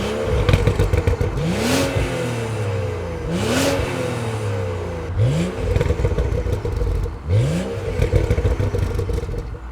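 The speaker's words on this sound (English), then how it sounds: "we can't talk about the engine without showing you how the exhaust sounds" A BMW M235i's 3-litre engine, stock but with the exhaust resonator deleted, is revved four times in succession, each blip rising sharply and falling back to a rough idle, loud and close.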